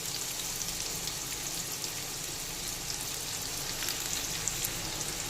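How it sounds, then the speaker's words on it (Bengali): Chopped onion and garlic fry in white oil for egg prawn chowmein, a steady, even sizzle that holds at a constant moderate level with no voices. "আবারও কিছুটা সাদা তেল দিয়ে দিলাম। দিয়ে দিলাম পেঁয়াজ কুচি, রসুন কুচি,"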